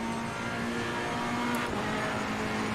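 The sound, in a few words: race car engine revving in Assetto Corsa Competizione video game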